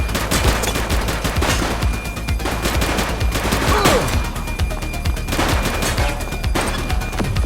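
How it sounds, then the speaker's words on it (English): Shootout gunfire in The Precinct, a police video game: rapid, continuous machine-gun and pistol fire crackling loudly and close throughout, with overlapping shots and a brief crash mixed in. "He's shooting!"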